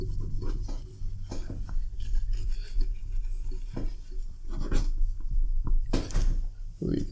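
An eraser rubbing writing off a board in a complex-number maths lesson, with repeated brisk scrubbing strokes, some louder than others, close by.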